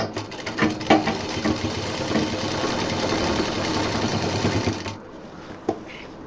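A sewing machine stitching a college bag runs in a steady, rapid mechanical chatter for about five seconds, close and fairly loud, then stops, followed by a faint click.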